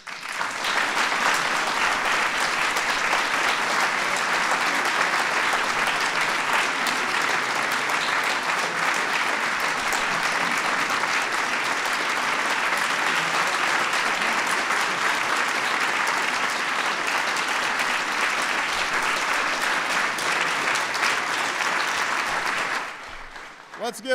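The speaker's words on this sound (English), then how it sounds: "Let's give a big round of applause to all our awardees." Sustained audience applause fills the hall at a White House awards ceremony for the National Medals of Science and Technology & Innovation, holding loud and even for over twenty seconds before stopping abruptly.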